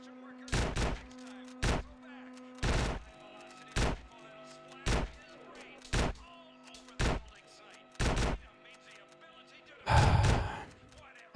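Shotgun blasts in Grand Theft Auto: San Andreas ring out about nine times at a roughly even pace, each a loud, sharp boom with a short tail, and the last shot sounds heavier and noisier.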